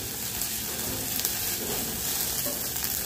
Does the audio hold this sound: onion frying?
yes